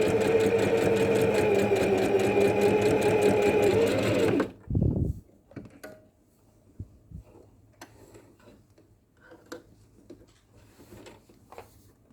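A sewing machine topstitches through layered tie-dyed fabric in a fast, steady whir for about four seconds, then stops, followed by a few close thumps and light clatter in a quiet room.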